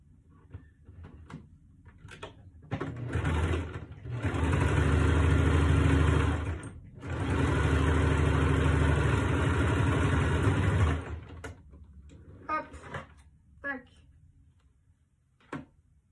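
A sewing machine stitches fabric for a small coin purse, running in two steady loud bursts of several seconds each with a short pause between, followed by a few faint clicks and handling noises.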